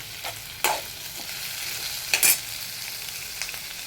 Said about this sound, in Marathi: चला आता टोमॅटो पण आपण त्यातच टाकून भाजून घेऊया चांगलं भाजून घ्यायचे